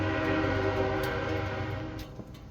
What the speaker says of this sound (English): damn it, I have to wait on the train.